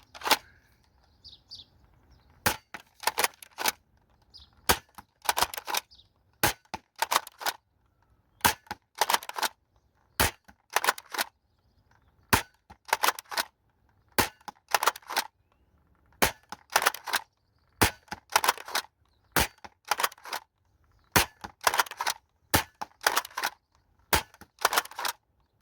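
A Dart Zone Stryker toy blaster fires foam darts in quick bursts of sharp cracking shots, clustered in rapid groups with short pauses between, close and loud against a quiet background.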